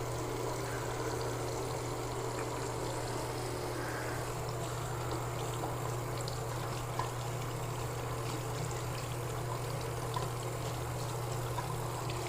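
Dentures being rinsed under a steady stream of running tap water, a continuous even splashing and trickling close by with a low hum underneath, no talking.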